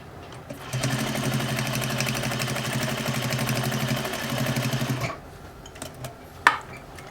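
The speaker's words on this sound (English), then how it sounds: "I'm going to head to my sewing machine and I'm going to edge stitch across this folded edge" A sewing machine edge stitching across a folded fabric edge runs in one steady, rapid stitching burst for about four seconds, close up, followed by a few soft clicks and handling noises.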